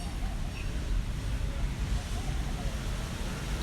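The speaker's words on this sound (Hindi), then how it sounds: "ठंडी बर्फ़ हवा चल रही है" Cold wind blows outdoors, buffeting with a constant low roar and gusty rumble across the whole stretch.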